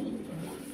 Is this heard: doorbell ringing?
no